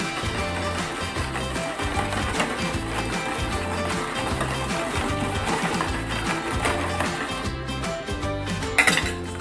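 A whisk beats a milk pudding mixture of eggs, jaggery and milk in a bowl, making a fast, steady rhythmic clinking and sloshing close by for the whole stretch, with a brief louder clink near the end.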